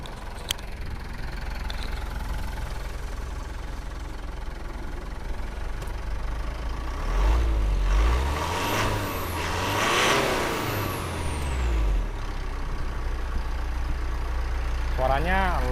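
A close 2014 Mitsubishi Pajero Sport Dakar SUV engine idles roughly, then revs up twice in rising and falling surges before dropping back to idle; brief voices sound near the end.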